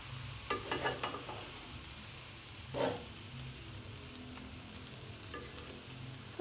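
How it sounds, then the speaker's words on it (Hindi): Chicken fried rice sizzling in a pan as soy sauce is stirred through it, with a steady low frying hiss broken by a few scraping stirs of a utensil and one louder clatter, no voices. "1 टेबल स्पून सोया सॉस है और इसे भी डालकर मैं मिक्स करूंगी"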